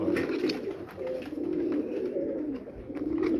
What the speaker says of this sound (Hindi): ये मुकामी इनके कबूतर साहब के 80 नंबर ब्रीड है